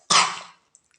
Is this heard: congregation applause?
no